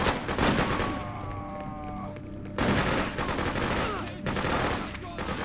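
Emplaced machine guns firing in the video game Freedom Fighters, a loud, dense stream of gunfire with explosive bursts, briefly dropping off before the shooting resumes, with battle noise and faint voices mixed in.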